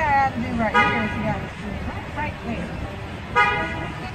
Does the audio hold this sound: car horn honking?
yes